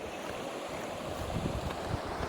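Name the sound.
flowing river water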